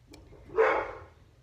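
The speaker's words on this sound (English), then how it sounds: "Sorry for the dog." One loud, close dog bark rising sharply and fading over half a second, alone against a quiet room.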